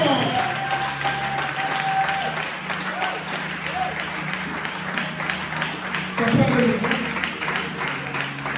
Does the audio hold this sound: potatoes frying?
no